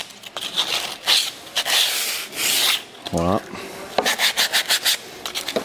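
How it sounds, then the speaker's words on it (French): Wood is hand-sanded with 120-grit sandpaper to soften the edges of a DIY spice shelf, in repeated rasping strokes of varying length, close up, with a brief spoken word near the middle. "Donc là j'ai pris un papier de grès 120"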